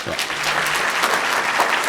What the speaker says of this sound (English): Let me hear by clap, how many of you agree